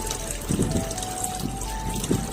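Water is poured into sour curd and stirred in, making a steady trickling and sloshing sound with a few soft swishes of mixing, close and moderately loud.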